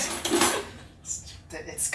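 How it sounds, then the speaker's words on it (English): Dishes and silverware clatter as they are loaded into a narrow dishwasher on a boat, with clinks and rattles near and moderately loud, then brief metallic chimes as cutlery is placed. "It's kind of narrow, so it's kind of hard to fit the silverware back there."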